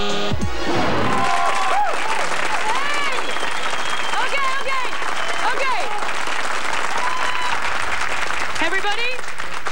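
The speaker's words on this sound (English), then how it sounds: "You have stopped clapping." A studio audience at a 1994 television talk show claps loudly and steadily, with scattered cheers and whistles rising through the dense applause from start to finish.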